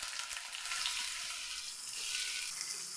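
Chopped onion fries in a pan for a potato and egg snack, a steady, close sizzle and crackle that continues throughout with no talking.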